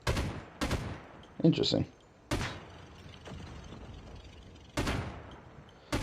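A PKM light machine gun fires in a video game, with a few sharp loud bursts separated by pauses and a brief voice speaking between them.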